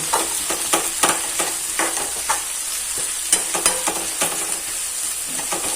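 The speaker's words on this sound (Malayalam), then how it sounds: "സവാള നന്നായി വഴറ്റുക." Sliced onions sauté in a pan with a loud, continuous sizzle. A spatula scrapes and taps against the pan at a quick, irregular rhythm.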